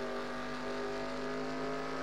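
Race cars in the NASCAR Racing 2003 video game drone in a continuous, loud engine roar from a pack of cars running close together on a track in Australia.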